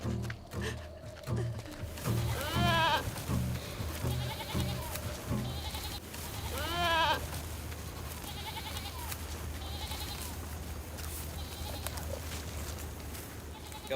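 Goats bleat a few times, with two distinct wavering calls standing out over a steady rural background hum, mid-distance and moderately loud.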